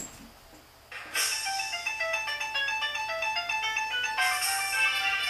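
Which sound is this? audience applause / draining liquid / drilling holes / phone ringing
phone ringing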